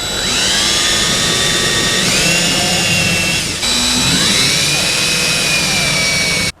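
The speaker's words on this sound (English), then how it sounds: "I'm gonna go ahead and drill a 1/8 inch hole right in the belly of that 45 degree" A power drill bores a 1/8 inch hole into the 45-degree bend of a 2003 GMC 2500HD truck's exhaust pipe, a loud, high-pitched whine that dips briefly midway, then continues before cutting off.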